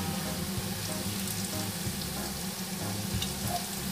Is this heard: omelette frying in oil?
yes